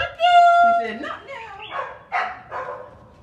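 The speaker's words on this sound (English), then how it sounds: "These dogs are wild." Dogs on a veranda give a close, loud high whine, then a run of sharp barks and yips with whimpering, all within about three seconds.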